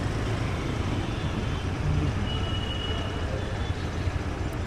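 Steady road traffic noise from city streets heard while riding a Royal Enfield GT 650 motorcycle in Chennai, a continuous low rumble of engines and vehicles with a faint whine, no talking.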